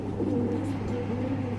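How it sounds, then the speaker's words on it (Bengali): Pigeons kept for sale, including Indian Kaldam birds, coo in a low, continuous murmur, with steady soft cooing throughout against a constant low hum. "4 পিস কবুতর আছে এখানে"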